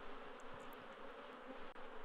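A swarm of bees in the video game Anasazi drones with a steady, low buzz, quiet and unbroken, with no voices.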